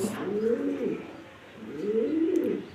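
Two rounded, throaty coos from a large female pigeon at a pigeon exhibition, each a rolling burble with a short pause between, close and clear over a faint room hum.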